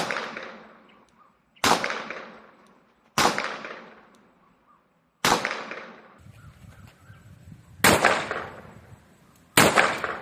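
A Smith & Wesson Model 67 revolver fires six loud, sharp shots at uneven intervals, each followed by a reverberant decay at an outdoor range, with no speech between them.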